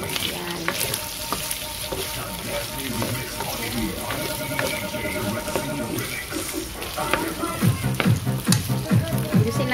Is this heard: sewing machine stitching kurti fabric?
no